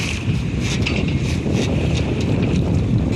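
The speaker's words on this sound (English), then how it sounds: "right now the winds are about 30 kilometers, 40 kilometers per hour" Strong wind roars across the microphone aboard a small pocket cruiser sailing under a storm jib in winds of 30 to 40 km/h, a steady loud rush with water and hull noise underneath and no talking.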